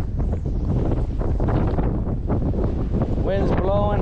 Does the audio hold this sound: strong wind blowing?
yes